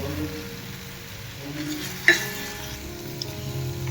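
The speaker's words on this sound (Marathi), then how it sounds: "तिखट टाकलेलं आहे ह्याला चांगलं परतून घेऊया" Vegetables with chili powder sauté in a pan, a continuous close sizzle with one sharp utensil clink midway and soft stirring scrapes.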